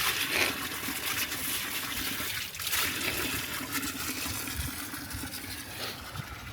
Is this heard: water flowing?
yes